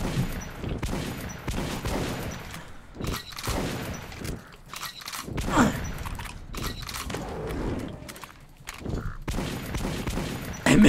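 Scattered bursts of gunfire in Metro 2033 Redux, uneven volleys with pauses between them, mixed with footsteps and clattering mechanical game sounds at close range.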